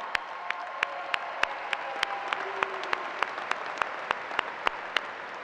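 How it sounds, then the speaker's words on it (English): Steady audience applause at a WKU College of Health & Human Services spring 2022 graduation recognition ceremony, a dense wash of clapping from a large crowd with a few sharp, close claps standing out, and no talking over it. "let's give one final round of applause to thank your family, friends, faculty, and university staff who have supported you throughout your time here."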